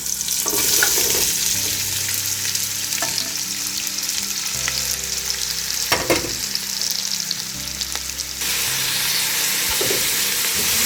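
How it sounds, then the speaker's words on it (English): Chopped onions fry in oil for chicken biryani, a continuous close sizzle with occasional scraping stirs and a brief louder crackle partway through, no voices. "Give the onions a good stir and let them fry well in the oil."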